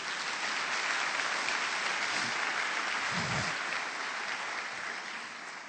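A church congregation applauds in a dense, sustained wash of clapping that stays loud and even throughout, with no talking over it.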